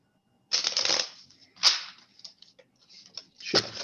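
Playing cards are shuffled close by in several quick riffling bursts with short pauses between them, crisp and fairly loud, with no talking.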